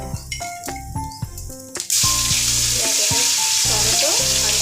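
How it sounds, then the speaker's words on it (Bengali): Whole cumin and ginger paste drop into hot oil, setting off a loud, steady sizzle that takes over about halfway through and persists to the end, with background music playing throughout. "তেলের মধ্যে গোটা জিরে, আর আদা বাটাটা দিয়ে নামিয়ে নেব।"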